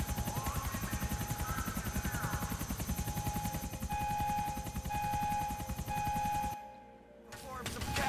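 A helicopter in Grand Theft Auto IV flies close overhead, its rapid rotor chop loud and rhythmic, then cuts off abruptly near the end with a brief drop before noise returns.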